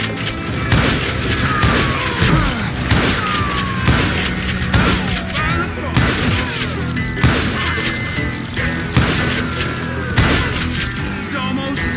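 Heavy, dense gunfire in the Western shooter Call of Juarez: Gunslinger, with rapid overlapping shots, ricochets, thuds and impacts rattling continuously and loud throughout, with no pause.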